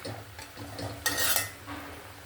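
Cabbage and potato stirred in a pan, a short burst of spoon scraping and clattering against the metal with a faint sizzle beneath, close by and brief.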